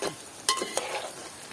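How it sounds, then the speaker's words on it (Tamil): Eggplant fries in hot oil, giving a soft sizzle broken by a couple of quick scraping stirs over a brief moment, faint and close. "கத்திரிக்காய் பொன்னிறத்தில் பொரிய மட்டும் பொரிக்க வேணும்."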